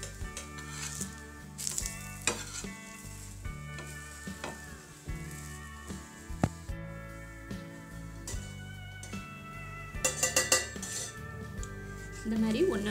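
Wheat roti fries in oil on a pan, a soft sizzle running beneath clinks and scrapes of a utensil turning it.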